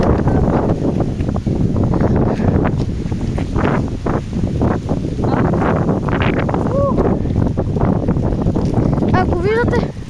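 Strong wind from an approaching storm buffets the microphone in continuous gusts while people talk over it.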